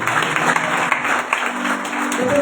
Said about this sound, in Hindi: तालियां बजाइए यीशु के नाम